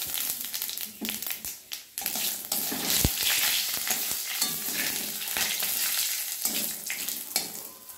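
Bay leaf, two cardamom pods, cinnamon and a little cumin frying in hot mustard oil in a kadai, a steady bright sizzle broken by stirring scrapes and clinks, close and fairly loud.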